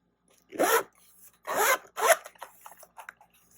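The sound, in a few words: zipper opening a pen case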